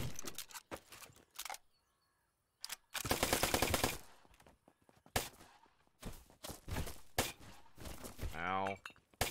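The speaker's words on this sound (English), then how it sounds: "Hit him with that shot." Gunfire from the game Black Skylands rings out in sharp bursts and single shots between quiet gaps, mixed with game effects and a voice talking over parts of it.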